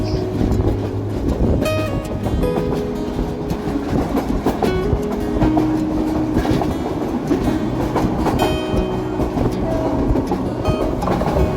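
Heard from inside the Kishoreganj Express passenger train between Dhaka and Bhairab at speed: a loud, constant rumble with rhythmic wheel clatter and rattling carriages, with no talk.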